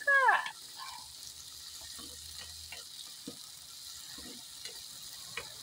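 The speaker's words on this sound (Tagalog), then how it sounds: "Gisa lang. Hanggang lalabas ulit yung aroma ng mga sangkap." Ingredients sautéing in a pan for ginataang monggo, a mung bean and coconut milk dish with shrimp, give a faint, steady sizzle. A brief sharper sound comes at the very start, then the frying continues low and even with a few small ticks.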